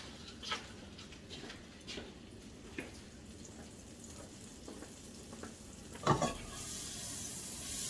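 Butter sizzles faintly in a pan for a stir fry, a low steady hiss broken by occasional soft scraping taps and a louder clatter near the end.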